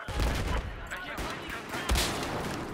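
Sniper rifle fire in Battlefield 4 multiplayer on the Altai map, with sharp, loud broadband bursts standing out against a busy battle soundscape of continuous gunfire and explosions.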